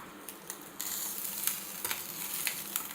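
Leftover biryani reheating in a pan on a home stove, with a steady sizzle and frying crackle and occasional stirring scrapes, close and without talk.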